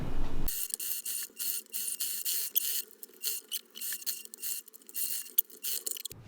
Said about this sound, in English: Let's sew together.